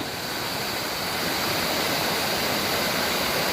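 Sprite Falls in Majayjay, Laguna pours in a steady, full roar of rushing water, a dense and unbroken hiss that holds close and loud throughout with no voices.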